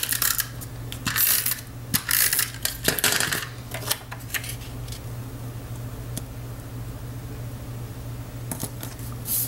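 A Stampin' Up snail adhesive tape runner is pressed along a card, giving several quick ratcheting clicks and rasping rolls in short bursts, close and fairly loud.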